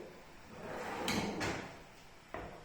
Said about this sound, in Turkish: Teleskopik fren rayda bu şekil sonuna kadar açılıyor.